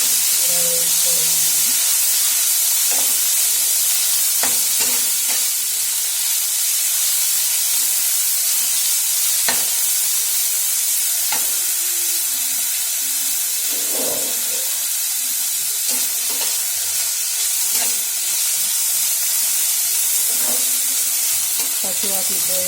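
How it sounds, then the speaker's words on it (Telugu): Ridge gourd dal sizzles steadily in a pan for a friends-style beerakaya tokku pachadi, a continuous frying hiss broken by occasional stirring scrapes and clinks, close and fairly loud, with no talking. "బీరకాయ పప్పుని వేయించుకోవాలి"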